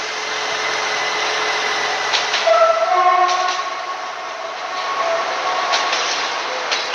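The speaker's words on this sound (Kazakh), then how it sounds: "Ё-моё, электричка, жоқ!" An electric train rumbles past close by at a level crossing, a steady loud roar with brief horn-like tones rising over it midway.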